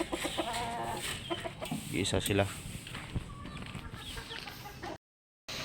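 Hens clucking in a backyard coop divided into plywood-boxed pens, four hens to each 4x4 section, with several scattered clucks and fowl calls under close talk and shuffling.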